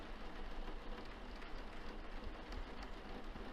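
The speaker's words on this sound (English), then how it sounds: "I love rainy days." Steady rain pours in the video game Lonepath, a dense, even hiss that holds at the same level throughout with no voices over it.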